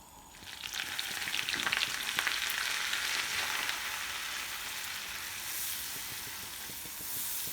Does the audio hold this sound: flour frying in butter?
yes